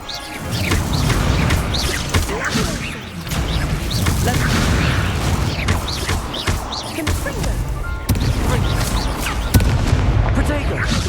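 Repeated bursts and blasts of the Incendio fire spell in Hogwarts Legacy crackle and boom loudly through a chaotic duel, layered with impacts and a speaking voice.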